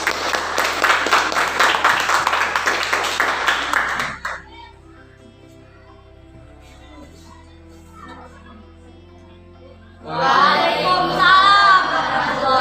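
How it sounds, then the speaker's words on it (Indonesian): Classroom applause for a student group, a burst of many hands clapping for about four seconds, a quiet pause, then another round of clapping and voices near the end. "Tepuk tangan untuk kelompok 5."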